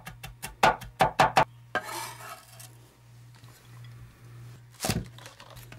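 Knife mincing garlic on a cutting board: a quick run of sharp chopping taps, a brief scraping sound, then quieter handling and another pair of knocks near the end, close and clear with a steady low hum beneath.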